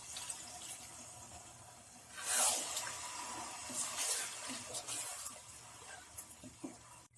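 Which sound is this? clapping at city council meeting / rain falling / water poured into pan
water poured into pan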